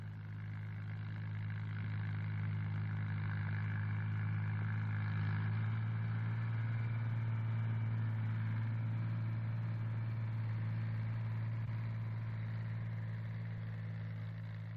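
A 1960s sugar beet harvester lifting beet into an accompanying trailer makes a continuous droning engine hum with a steady mechanical rumble. It is moderately loud and unchanging, with no voices.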